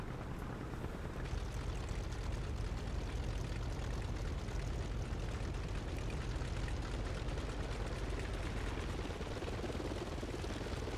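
A Focke Wulf FW-190 A-8 in a flight simulator gives a loud, continuous propeller drone with a rough, rhythmic chopping pulse, steady throughout and with no voices.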